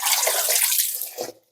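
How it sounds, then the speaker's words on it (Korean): Young radish greens being washed gently in water, a close, steady splashing and sloshing that fades out after a final swirl, with no talk. "열무 씻을 때는 살살 씻어 주세요."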